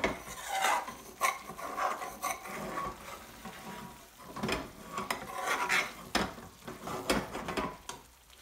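Cooked garlic chilli chicken sabzi is plated up: metal utensils scrape, clink and rub against pans and dishes in irregular bursts, close and fairly quiet, with no talking.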